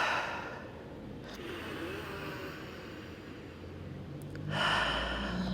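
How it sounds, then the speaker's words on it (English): Slow deep breaths drawn in through the nose and released out through the mouth during a Pilates reformer class, soft and close, with a fuller exhale swelling near the end over a low steady room hum. "take a couple deep breaths in through the nose,"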